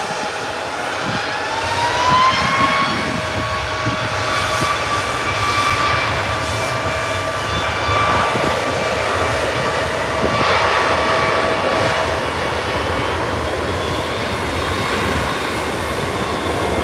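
Boeing 737 jet engines spooling up on a rolling-start takeoff at Birmingham Airport, a steady broad roar with whining tones that swells slightly as the aircraft accelerates, heard from the airfield edge.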